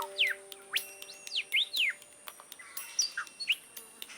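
A male lyrebird mimicking R2-D2 robot beeps within a mixed medley: rapid sweeping electronic-sounding chirps and whistles, about a dozen sharp calls in quick succession, fairly close and clear over faint background.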